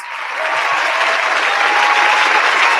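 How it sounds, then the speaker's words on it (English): A burst of applause from a crowd, clapping building quickly and holding steady and loud for a few seconds. "Of course, I'll give you some applause."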